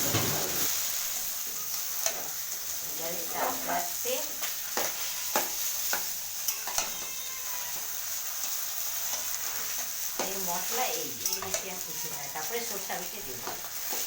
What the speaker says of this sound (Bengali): কাঁচা লঙ্কা আর কালো জিরে, এরপর এর সাথে সিদ্ধ করে রাখা যে কচুর শাকগুলো দিয়ে দিলাম